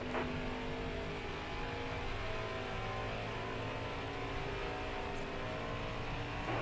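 Stock cars in the NASCAR Heat 5 racing game at World Wide Technology Raceway (Gateway) drone steadily at speed, a continuous engine hum with a fairly quiet, even level throughout.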